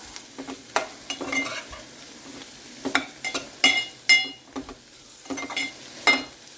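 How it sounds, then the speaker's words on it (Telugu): Meal maker soya chunks fry in hot oil with a soft sizzle beneath a series of sharp scraping and clinking stirs of a utensil against the pan, close and irregular, with no one talking. "ఇవి ఇట్లా నూనెలో ఫ్రై అవుతూ ఉంటాయి"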